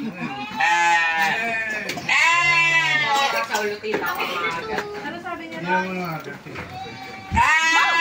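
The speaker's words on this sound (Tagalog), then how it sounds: "Puntahan natin yung ano, yung mga kambing. Tsaka yung mga tupa." Goats and sheep bleat repeatedly at close range on a resort farm in Bulacan, a series of loud, wavering cries coming in quick succession, with people talking nearby.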